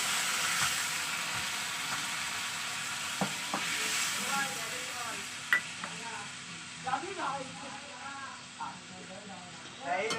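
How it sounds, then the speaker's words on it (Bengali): Hot water poured into spice paste fried in oil until the oil separates, for a vegetarian jackfruit curry, giving a steady broad sizzle with sharper bursts near the end while someone talks throughout. "মশলাটা তেল উঠে এসছে এইবার আমি একটুখানি পরিমাণ মতো ঝোল দেব এই যে পরিমাণ মতো আমি গরম জল দিলাম"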